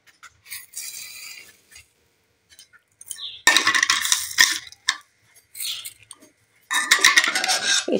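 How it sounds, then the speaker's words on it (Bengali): A spoon stirs rice pudding (payesh) in a pot as sugar goes in, giving close, intermittent bursts of metallic scraping and clinking separated by brief silences. "খানিকটা আমি নাড়াচাড়া করতে থাকি, আর এই চিনিটা দিয়ে দেবো এবার।"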